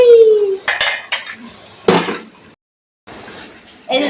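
Dishes and pots clatter in a home kitchen, with several sharp metallic clanks and scrapes separated by short pauses, loud and close, alongside a brief voice.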